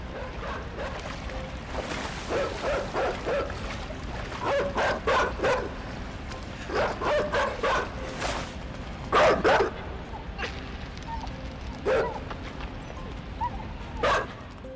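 Hunting dogs in the video game Inside bark and yip in repeated bursts, some close and some farther off, over a low rumbling ambience. Whimpers are mixed in between the barks.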